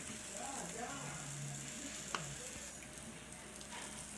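Chopped onion sizzling in a hot pan for a veg mayo cheese dosa, a steady low frying hiss throughout with a brief clink near the middle.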